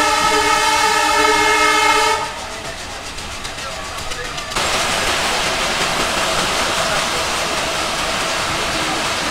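A Mongla commuter passenger train arriving at Chulkati station, first a loud sustained horn, then a brief quieter lull before the steady roar and rumble of rolling carriages takes over and continues close by.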